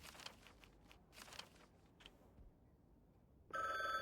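A telephone suddenly starts ringing, loud and steady, in the video game The Bookwalker, after a stretch of soft taps and shuffling.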